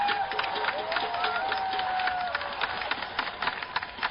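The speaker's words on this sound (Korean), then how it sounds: "박수 부탁드립니다" An audience applauds at a music festival stage, a crowd of scattered clapping with some cheering rising up close, with a voice speaking over the start of the applause.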